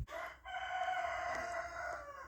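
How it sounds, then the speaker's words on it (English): A cockerel crows loudly and nearby in one long, sustained call, with faint background rustle at a rural cabin. "Just waiting for the cockerel to stop shouting."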